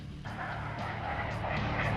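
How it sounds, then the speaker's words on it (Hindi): Boeing CH-47 Chinook twin-rotor military helicopter in flight: a steady, loud engine and rotor roar that swells slightly over the span, with no voices. "ये है वो चिनूक हेलीकॉप्टर।"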